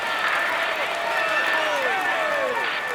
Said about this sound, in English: Come on, let's applaud him.